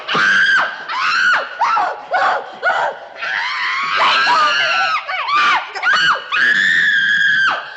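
A girl screams loudly and repeatedly for help in a 1969 school drama scene, long piercing shrieks in several bursts with brief gaps, close and dominating.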